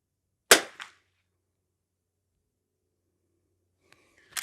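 Two sharp, loud reports from a Henry H001 lever-action rifle fired at targets, one near the start followed by a brief echo, then a long silence before a second shot at the end.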